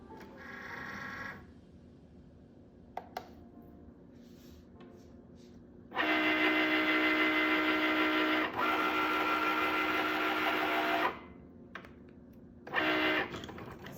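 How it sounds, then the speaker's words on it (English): A Cricut machine draws with a pen held in Dollar Tree grippers, whirring in bursts of motor buzz with a long steady run in the middle and short pauses between carriage moves, close and alone. "So this one is just cutting with the Cricut pen."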